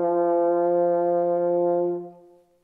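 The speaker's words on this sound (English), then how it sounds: "the mouthpiece sits inside the horn, which makes a sound like this." A single sustained French horn note played steadily and alone for about two seconds before fading away.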